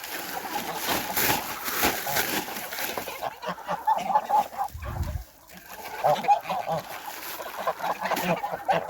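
Domestic geese cluck and peck busily at thrown grass nearby, with scattered soft calls and rustling over a low background; a brief dull thump interrupts midway.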